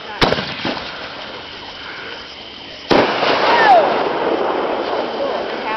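Fireworks going off at a family Fourth of July celebration: a sharp close bang, then a second loud burst followed by a long crackling, hissing sizzle with fainter pops, while people talk nearby.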